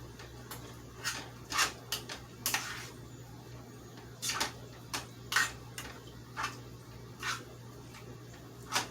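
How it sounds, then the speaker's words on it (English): Oatmeal with milk and raisins being stirred in a pot on a stovetop: soft, irregular spoon taps and scrapes against the pot over a low steady hum, fairly quiet. "Okay, so just stir that in,"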